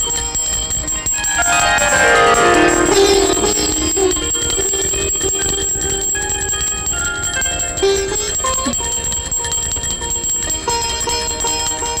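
A brass puja bell rings steadily through a scene from the Tamil film Maaman Machaan, its bright metallic tone sustained and loud over a dense background of music.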